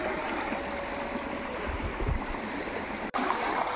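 The Teng river flowing near a village, a continuous rushing wash of water close by, steady and broadband with slight low swells and a brief dropout near the end, no talking.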